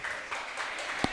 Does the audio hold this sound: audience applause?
yes